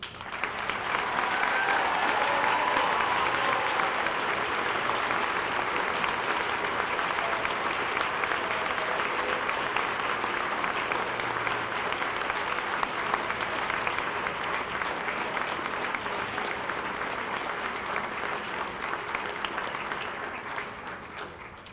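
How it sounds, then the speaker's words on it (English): A large crowd at the 2011 University of Evansville winter commencement gives the graduating class sustained applause, a dense, even roar of clapping lasting over twenty seconds before tapering slightly at the end. "And the applause isn't over."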